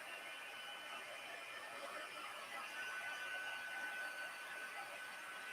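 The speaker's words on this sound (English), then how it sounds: "I'm moving the heat gun back and forth." Steady, close-up whoosh of an embossing heat gun blowing over cardstock, a continuous airy hum that holds level throughout with no voice.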